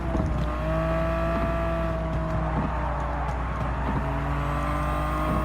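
A 1995 Nismo 400R on Tokyo Expressway in Gran Turismo 7, its engine droning continuously at high revs with steady tonal harmonics and brief gear-shift dips, loud and constant throughout.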